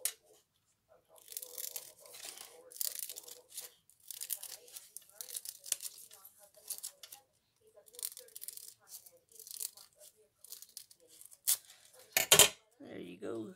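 Crisp snipping and rustling as scissors cut through card for a handmade slider card in a series of short bursts, close up, with brief pauses between cuts.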